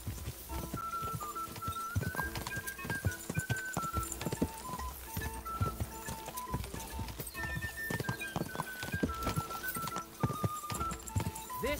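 Horse hooves clip-clop in steady rhythm alongside whinnying in the medieval video game Kingdom Come: Deliverance II, with game music and effects dense around them and loud throughout.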